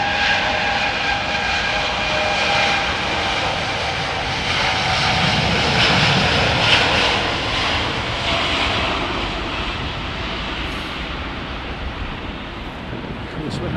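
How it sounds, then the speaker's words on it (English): An Airbus A380 jet at London Heathrow Airport gives a loud, steady engine roar that fills the whole stretch, with broad rushing noise swelling slightly in the middle before easing off. "Benjamin Clark, 380 is zooming"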